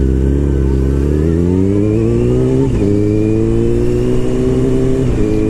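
Small mini bike engine riding just ahead, a buzzy mid-pitched drone that climbs steadily with brief gear-change dips, heard from close behind.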